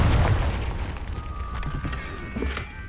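Confringo blasting spell in Hogwarts Legacy: a deep booming explosion at the start, then a lingering rumble with faint pops and crackles, loud and close.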